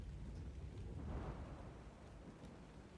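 Steady rain hisses in the Valguero map of the video game ARK, with a low, rolling thunder rumble swelling near the middle before easing back into the constant downpour.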